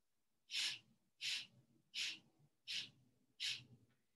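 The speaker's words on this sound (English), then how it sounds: "And exhale, pump the air." Five forceful pumped exhales during a yoga breathing exercise, sharp breathy bursts spaced evenly about every 0.7 seconds, close and alone with quieter inhales between them.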